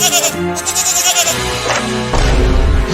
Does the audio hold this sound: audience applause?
no